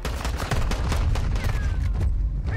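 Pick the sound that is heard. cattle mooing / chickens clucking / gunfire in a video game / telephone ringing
gunfire in a video game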